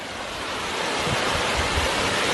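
Ocean surf and a small waterfall on the Australian coast, a steady broadband rush of falling and breaking water that swells slightly louder and stays close and continuous, with no voices.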